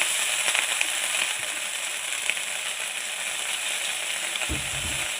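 Coriander leaves fry with chili and onion in a pan, a dense, steady, close sizzle with faint crackles and a soft knock near the end.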